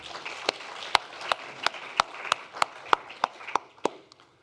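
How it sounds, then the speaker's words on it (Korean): A church congregation applauds, heard as a series of about a dozen sharp, fairly evenly spaced claps over a low murmur, moderately quiet and with no speech. "우리 격려의 박수 한번 보내드리면 좋겠습니다"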